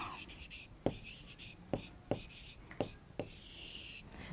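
Writing on a board in a class 4 Hindi lesson: short scratchy strokes punctuated by about five sharp taps of the chalk or marker against the board, quiet and near, with a little voice activity mixed in.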